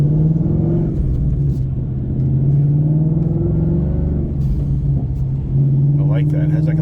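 A 2024 Ford Mustang GT with a new exhaust rumbles and revs close by, a deep steady engine note that swells and settles across the whole stretch, with brief voices over it.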